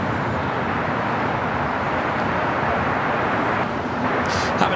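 A Delta 757-200 airliner on the south side runway at LAX, a loud broad roar of jet engines rumbling steadily at a distance, with a voice talking over it.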